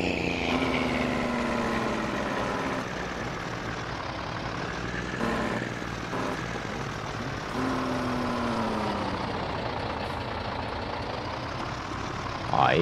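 Truck engine idling after the accelerator is released in Farming Simulator 22, a steady low rumble that carries on throughout with a few faint shifts in pitch.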